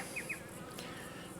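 Honey bees hum steadily around an open hive while a queen's paint marking dries, a soft continuous drone with brief louder passes close by and no voices.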